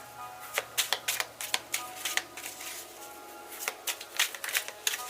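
Tarot cards shuffled in a series of quick riffling bursts, crisp and close, with short pauses between flurries and no talking.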